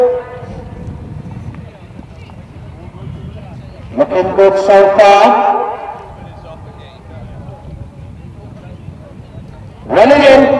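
Harness racing horses trotting on the track in a Grade A final at Tyrwhitt in the Amman Valley, with steady hoofbeats under a race commentator's running call and crowd noise throughout.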